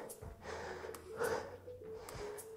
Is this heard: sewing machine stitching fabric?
no